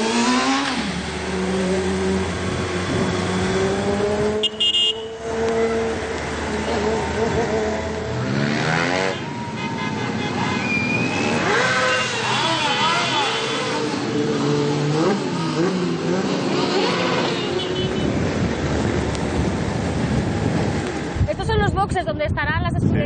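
A vehicle laps a motorcycle racing circuit. The engine revs and changes pitch as it accelerates and slows down, loud and close, while people talk over it almost the whole time.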